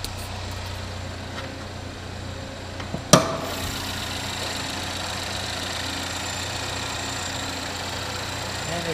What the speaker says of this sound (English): And there's the engine.